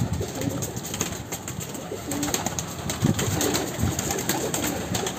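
Pet pigeons coo in low, soft, repeated murmurs close by, overlapping one another against a busy outdoor background.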